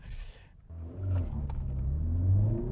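A 2021 Honda Civic Type R engine revs hard during an acceleration run, a rising roar and whir climbing steadily after a brief quieter moment, close and loud with no talk.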